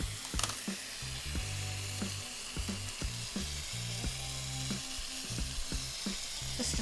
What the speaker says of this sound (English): I'm going to add my coconut milk in there. Let that come to a boil.